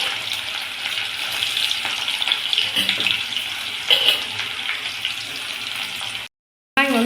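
Onions tossed into a pan of oil where chilies were just fried, a loud close hiss and crackle of frying with stirring scrapes, ending in a brief cutoff to silence.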